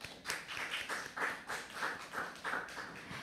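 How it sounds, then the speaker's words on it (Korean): Applause from a seminar audience after a presenter's talk on urban innovation and living labs, heard as a short, sparse run of claps at moderate distance with no talk over it. "다시 한번 큰 박수 부탁드리겠습니다."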